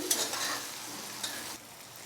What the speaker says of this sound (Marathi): भाजून घेऊया सर्व मसाले